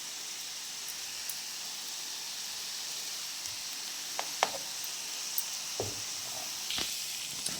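Curry leaves dropped into hot oil in a pan with tomato, a steady close hiss of frying with a few brief crackles and pops, and no voices over it.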